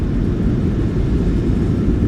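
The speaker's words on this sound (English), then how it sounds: "Reversers are out. Decelerating." A Ryanair Boeing 737-800 roaring with thrust reversers deployed during landing rollout, a loud, dense, low rumble that stays steady throughout.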